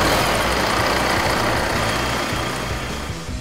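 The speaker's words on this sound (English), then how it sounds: "This is dyno. This measures the torque and horsepower output of the engine." A26 engine running steadily on a dyno in an enclosed test cell, a dense, loud, continuous roar with low pulsing underneath and no voices.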